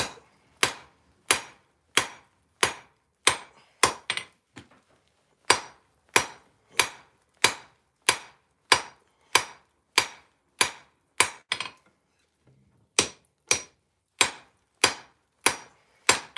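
Hammer blows ring out on hot steel being forged for blacksmith tongs, sharp metallic strikes in steady bursts of several, with brief pauses between groups, close and loud.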